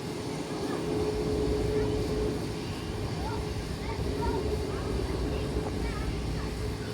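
A Boeing 737 MAX 8 airliner takes off from runway 8, a broad, steady jet roar that swells slightly and holds, heard from a distance across the airfield.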